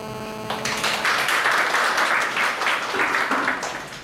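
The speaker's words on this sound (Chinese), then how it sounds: "那我们在热烈掌声请他开始" Audience applause at an architecture lecture: a short tone leads in, then a room of steady, moderately loud clapping that continues to the end.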